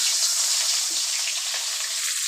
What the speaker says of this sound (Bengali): মাছের মাথা দিয়ে দিলাম